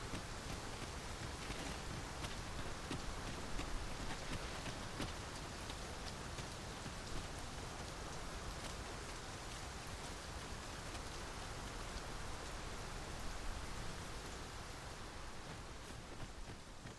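Steady rainfall in the video game Dragon's Dogma 2, a faint, even patter of drops hitting surfaces that continues without pause, with no speech over it.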